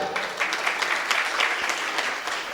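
Audience clapping at a Jain religious gathering in Gairatganj, a dense, steady wash of many hands applauding together, moderately near and sustained throughout.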